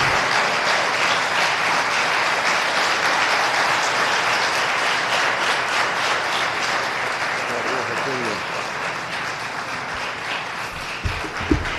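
Church congregation applauding during a service, steady dense clapping from many hands lasting throughout, with voices murmuring faintly underneath and a few sharp knocks at the very end.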